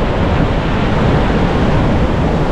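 Monsoon sea at a Goa beach surging up to the entrance, a dense continuous roar of heavy surf with wind noise, loud and close, with no voices.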